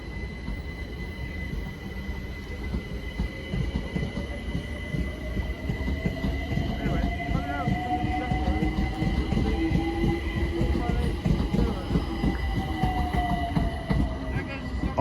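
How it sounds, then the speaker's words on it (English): A Class 378 electric train departs a London station bound for Stratford, rumbling with rhythmic wheel clatter and a rising motor whine that builds over several seconds, with faint background voices. "Departing now is 378 something bound for Stratford."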